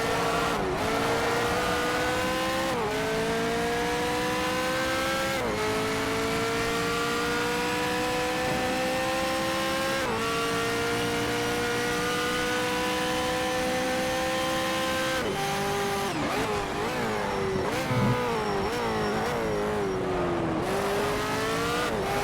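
Race car engines in Need for Speed: Shift during an endurance race scream at high revs, with repeated gear shifts causing pitch drops, continuous loud engine drone and occasional tire noise.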